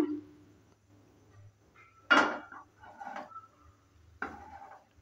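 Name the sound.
wok (kadai) being placed on the stove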